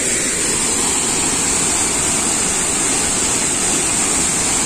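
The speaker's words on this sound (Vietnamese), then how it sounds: "dòng thác đổ to đùng." Hang Doi waterfall in Kbang, Gia Lai, pours down in a loud, steady, continuous roar of heavy rushing water, close and unbroken throughout with no talking.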